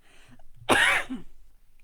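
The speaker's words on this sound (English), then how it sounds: "apologies, COVID cough." A single sharp, raspy cough from COVID rings out close by, followed by a brief breathy throat sound.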